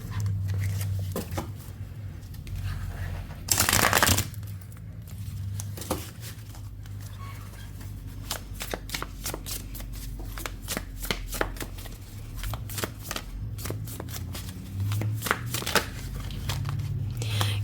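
A tarot card deck shuffled by hand at close range, with a loud riffle burst followed by a long run of quick, crisp card flicks and soft slaps, no talking.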